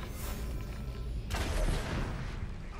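A barrel blows up in the video game Middle-earth: Shadow of War, a sudden boom about midway followed by a crackling, rumbling tail, heard fairly quietly against low game ambience.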